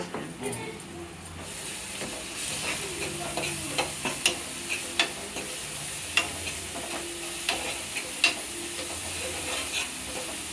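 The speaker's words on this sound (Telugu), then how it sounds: "అల్లం ఫస్ట్ మంచిగా గోలాలి, పచ్చివాసన వేసేటట్టు గోలితే" Ginger fries in a pan for a Sunday boti curry, a steady close sizzle with repeated clinks and scrapes of a spoon stirring, continuous throughout, while a person talks softly underneath.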